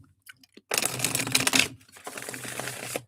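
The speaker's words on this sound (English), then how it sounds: "Let me shuffle these up." A deck of reading cards is shuffled close by: a few light ticks, then a long, dense riffle burst and a second, softer stretch of rapid card flutter.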